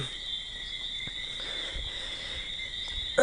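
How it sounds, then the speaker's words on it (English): Tree frogs call at night in a steady, continuous high trill that keeps going through the whole stretch with no pauses, fairly close and moderately loud, with no talking. "Those are tree frogs. And they come out when it gets dark at night."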